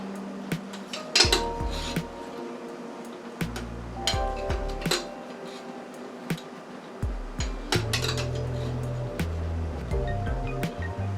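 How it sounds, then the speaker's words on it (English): A metal knife scrapes and clinks inside a glass jar to dig out thick contents, giving a series of irregular scraping strokes and taps, close up and alone. "I had to use a knife because my tablespoon won't fit down in this hole."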